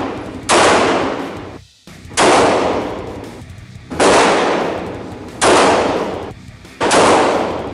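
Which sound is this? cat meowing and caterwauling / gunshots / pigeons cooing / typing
gunshots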